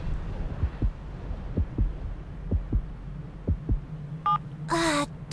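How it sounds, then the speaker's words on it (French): A heartbeat comes over a phone in an anime scene. It is a steady series of soft, low double thumps, about one per second, over a faint hum. A brief electronic tone and then a buzzy burst sound near the end. "Il a exactement le même battement de cœur que quand je l'ai rencontré la première fois"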